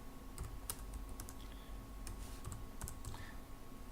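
Quick bursts of typing on a computer keyboard to enter an email address at a login screen, crisp close key clicks in uneven clusters, quiet and with no talking.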